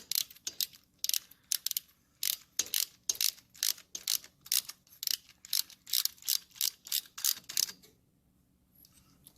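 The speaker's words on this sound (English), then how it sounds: "we're gonna be ready to torque this down here" A torque wrench ratchets in quick bursts of sharp clicks while head bolts are tightened on a 1971 Triumph Tiger 650cc engine. The clicking is close and loud, then it stops and the final seconds go quiet.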